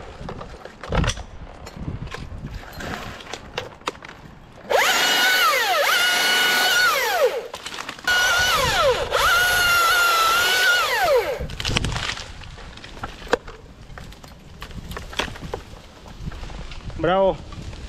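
Power saw cutting through a cedar tree outdoors, a loud sustained whine in two long bursts with the engine pitch rising and dropping, framed by quieter outdoor sounds and voices.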